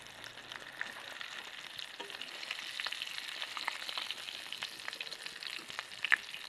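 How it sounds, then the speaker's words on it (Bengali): Chicken pakoda pieces fry in hot oil, a faint, continuous crackling sizzle with scattered small pops throughout and no voices. "আরও একইভাবে দিয়ে ভেজে নিচ্ছি"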